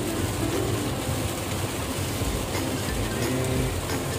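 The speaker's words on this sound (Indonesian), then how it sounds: "Hujan deras ini." Heavy rain pours steadily over a car being driven, a dense, even hiss and roar that fills the whole stretch without pause, with no voices.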